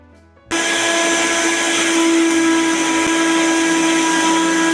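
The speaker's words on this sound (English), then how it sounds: "I'll let you hear the blender sound." A Binatone BL-1505 Turbo blender switches on after a brief quiet moment and runs steadily at full power, its loud motor whine holding constant and close to the listener with no talking.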